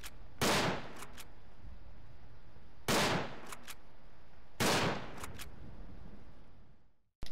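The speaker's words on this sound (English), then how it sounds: "You can see the muzzle flash from the machine gun, and it makes you a clear target for snipers and good marksmen" Machine gun fire in the WW1 video game Verdun: three separate short bursts of rapid shots, each with a quick echo, spaced a couple of seconds apart over steady background noise.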